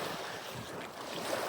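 Lake Michigan waves break and wash over a rocky beach in a steady, dense roar of surf with a gusty wind rush, continuous and fairly close, with no voices.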